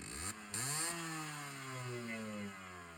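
A motorcycle engine idles, then revs and settles back to a steady running note with shifting engine harmonics, loud and close, with no talking over it.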